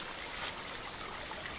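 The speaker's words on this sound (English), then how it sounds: "You hear that? That is the sound of water." A soft, steady trickle of spring water running on a hiking trail, continuous and gentle, with a faint hiss and no voices.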